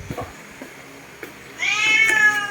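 A pet cat meows insistently for food, a rising, drawn-out call in the last second after quieter shuffling sounds, fairly close and alone without speech.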